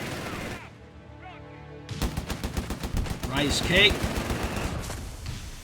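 Rapid bursts of machine gun fire and scattered gunshots in a Company of Heroes 3 battle between Wehrmacht and US Forces, rattling under a caster's voice, with a brief quieter stretch before the firing resumes.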